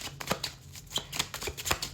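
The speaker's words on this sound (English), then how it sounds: "one last card wants to come out" Tarot cards shuffled by hand, close up, in a quick run of crisp papery riffles and soft slaps that repeat several times.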